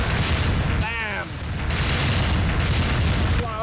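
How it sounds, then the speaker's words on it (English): Explosions from the video game Freedom Planet rumble as a dense, loud, sustained boom with bursts of noise, and a voice briefly speaks over it partway through. "Loud explosion sound effects!"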